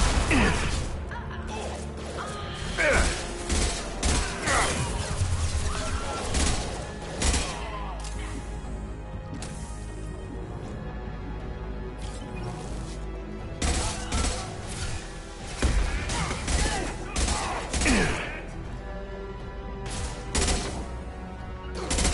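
Bursts of gunfire in the sci-fi shooter Mass Effect 2, rapid volleys and sharp cracks with crashing impacts in repeated clusters, loud and dense, pausing briefly before resuming.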